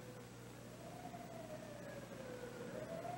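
A faint, distant siren wails with slowly rising and falling pitch over steady low background rumble.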